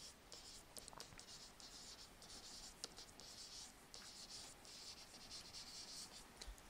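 Pen scratching across paper while a deductive reasoning example is written by hand, quick irregular strokes close up and fairly faint, continuous through the whole stretch with no talking.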